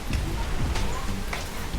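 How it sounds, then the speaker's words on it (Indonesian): Steady rain falling outdoors on a late afternoon near the beach at Pangandaran, a drizzle building into a heavier downpour, with a constant dense patter and low rumble throughout. "Gerimisnya makin deres"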